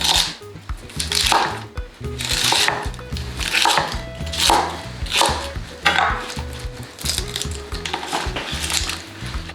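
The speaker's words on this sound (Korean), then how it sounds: "먹기 좋은 크기로 이렇게 썰어주세요." A kitchen knife cuts washed cabbage into bite-size pieces on a cutting board for a stir-fry. The rapid rhythmic chops are close and crisp and continue steadily without talking.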